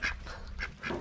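A duck drinking water at a rural farmyard gives a few quick, faint quacks in a short burst.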